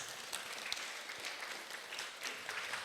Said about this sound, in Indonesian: Tepuk tangan dong buat Ibu Sus.